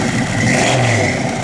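A 1970 Plymouth Cuda engine revs loudly and steadily up close, a throaty mid-pitched roar holding through the short moment with no talking.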